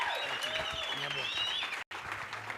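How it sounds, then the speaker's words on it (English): Audience applause at a township business workshop, a moderate wash of clapping with voices talking over it and a brief dropout near the end. "Please give him a round of applause"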